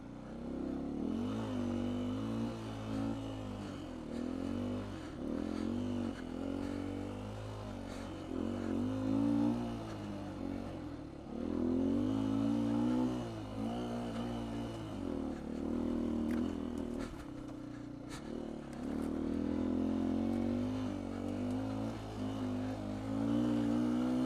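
A 2019 Beta 125 RR-S dirt bike fitted with a 150cc Yamaha big bore kit, ridden on singletrack, drones and revs in repeated rising and falling surges, fairly quiet and continuous with no talking.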